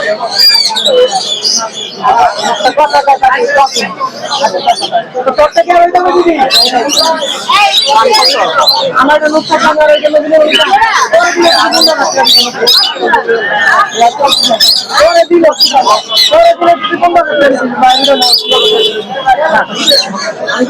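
Dense, constant chirping from many birds at a bird market in Mirpur 1, Dhaka, fills the space, mixed with a busy murmur of people talking nearby.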